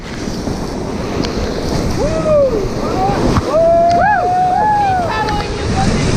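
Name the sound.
whitewater rapid on the Kaituna River, raft going through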